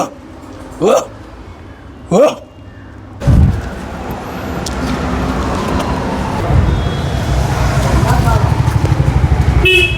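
Vehicles on a roadside honk three times in quick succession, each horn blast sharp and close. A steadily rising traffic rumble follows and ends in a rapid rattling engine sound.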